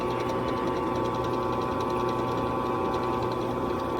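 A dulling chamfer bit machining stainless steel: a steady, loud, buzzing mechanical whine with a fast rhythmic pulse, continuous throughout with no breaks.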